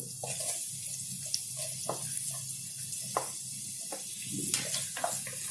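Onion sautéing in a pan with ginger and garlic for vegetable soup, a soft, steady hiss and sizzle with occasional light stirring clicks, close but fairly quiet.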